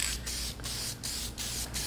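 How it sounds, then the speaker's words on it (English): An aerosol spray can coats a bottle in repeated bursts, each a loud, close hissing spray separated by brief gaps, about five passes in quick rhythm. "I'm going to spray it all over."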